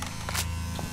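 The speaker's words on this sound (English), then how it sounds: "Taser. Nice job." Electric taser buzzing in the video game Payday The Heist, a steady close buzz lasting about a second, alone without talk.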